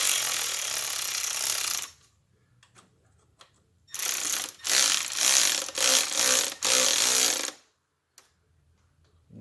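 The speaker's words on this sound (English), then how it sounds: "And now I'll run them down the rest of the way with the ratchet." Ratchet running down the bolts on a Chevy Aveo transmission pan: loud, close clicking ratchet bursts, one long run and then several shorter strokes separated by brief silences, with no speech.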